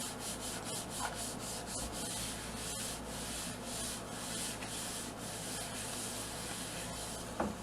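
A star stencil being rubbed down hard onto a wooden American flag, giving a continuous close dry scraping and rubbing with a steady texture and a few brief stronger strokes, no voices.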